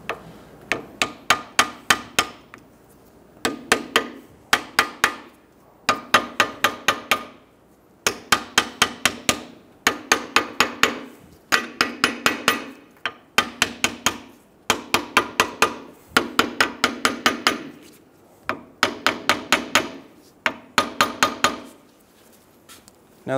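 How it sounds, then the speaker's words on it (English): Hammer lightly and rapidly tapping a rear ABS wheel speed sensor into its bore on a 2007-2011 Toyota Camry, in steady bursts of quick metallic taps separated by brief pauses, close and fairly loud with no talking. "We're gonna very gently go around with a hammer and tap this in."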